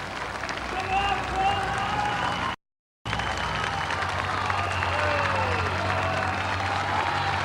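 Big roadside crowds applaud and cheer Paula Radcliffe as she crosses a bridge in the 2003 London Marathon, a continuous roar of clapping and shouts under a commentator's voice, broken by a brief dropout.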